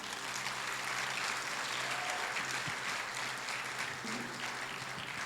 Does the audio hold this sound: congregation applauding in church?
yes